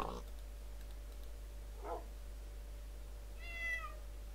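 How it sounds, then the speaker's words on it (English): A cat meows in the Minecraft video game, with two short soft mews early on and a higher, drawn-out meow near the end, all faint over a low steady hum. "Shut up, goddamn cat!"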